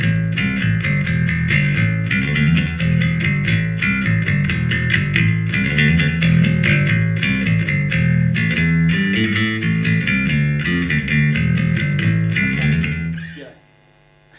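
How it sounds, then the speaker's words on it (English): A bass guitar played through a Zoom B3 pedal running a Lozz amp clone, a warm sustained bass line with busy notes throughout, then fading out at the end. "we'll now go to the Zoom B3, which has the Lozz amp clone on it"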